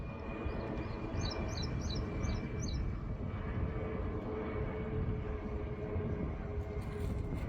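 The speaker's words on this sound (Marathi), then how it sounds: "वरतून हे विमान तुम्ही पाहू शकता." An airplane circling overhead near the Sambhajinagar airport gives a steady, distant droning rumble over farmland, with a string of faint bird chirps early on.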